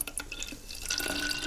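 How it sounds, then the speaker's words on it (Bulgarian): Water is poured into a homemade sports drink, producing a light trickling, dripping splash with faint glassy clinks, close and moderately quiet for a brief moment. "И доливаме водата."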